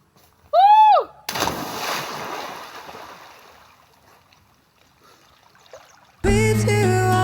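A person plunges into cold river water with a loud splash and sloshing, the turbulence fading slowly; a brief whistle comes before it, and music starts at the end.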